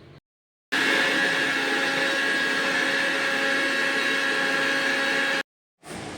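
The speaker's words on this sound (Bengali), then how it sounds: "তো চলো আমি ডালটাকে বেটে তারপরে আসছি।" An electric mixer grinder grinds soaked lentils (dal), starting after a short silence with a loud, steady motor whine that runs for several seconds, then cuts off and briefly restarts.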